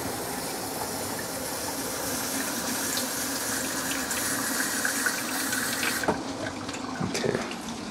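Water runs steadily from a kitchen tap into a filter in a continuous broadband rush, stopping abruptly near the end, followed by a couple of faint clinks.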